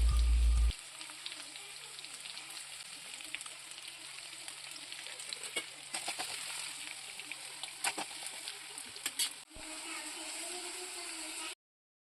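Sliced onions, green chillies and a bay leaf fry in oil in a pressure cooker, a soft steady sizzle with scattered clicks and clatter throughout, ending in a brief louder burst of noise.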